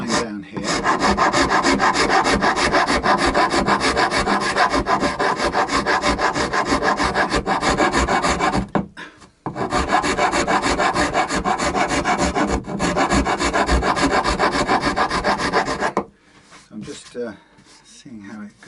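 A Shinto rasp files steadily along a piece of wood, giving a loud, continuous coarse rasping in long back-and-forth strokes that stops briefly near the middle and fades out near the end.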